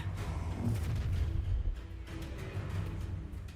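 A fire spell cast in Hogwarts Legacy, rendered as a loud, continuous burst of rumbling, booming magical fire with crackling energy that keeps roaring for several seconds.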